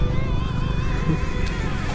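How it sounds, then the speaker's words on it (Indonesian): A Honda Beat 110 cc scooter rides along with a steady, droning engine hum and heavy wind rush, continuous and close for a couple of seconds. "gue ngevlog pakai motor Honda Beat 100 cc ya"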